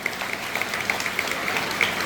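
A crowd applauds the women who gave art and craft training at a free ten-day camp, steady dense clapping that carries through the whole short moment.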